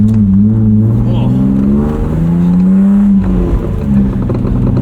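A 1995 BMW E36 325i with a five-speed manual gearbox pulls hard while driving, its loud steady engine drone rising in pitch in waves, heard close from inside the cabin with voices over it.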